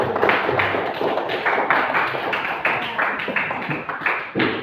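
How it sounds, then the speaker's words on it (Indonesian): A classroom of people claps together in steady, dense applause that continues throughout, with no talking over it. "Kita kasih tepuk tangan untuk kita semua."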